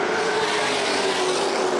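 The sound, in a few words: stock cars racing at Winchester Speedway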